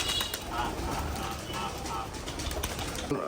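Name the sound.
pigeons cooing at a pigeon farm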